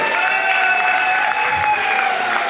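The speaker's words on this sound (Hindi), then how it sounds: "जोरदार खड़े होकर तालियां होनी चाहिए एकदम।" A standing crowd applauds speakers being called onstage at a business pre-launch event in Delhi NCR, a steady dense wash of clapping with a sustained tonal hum running underneath, no voices rising above it.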